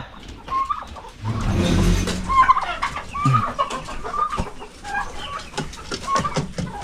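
Several bursts of turkey gobbling and clucking poultry calls on a farm, fairly close, overlapping with a loud low rumble early on and scattered farmyard noise.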